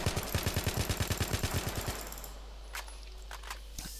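Rapid hipfire from an assault rifle in Battlefield 3, a fast, evenly spaced burst of about two dozen loud shots lasting two seconds, then a fading echo and a few faint mechanical clicks.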